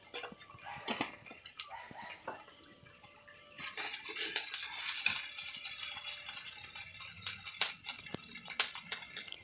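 Fennel paste being stirred in a cooking pan for a fish curry, heard as repeated scraping and clinking of a utensil against the pan with sizzling oil underneath, fairly close and steady, growing denser partway through.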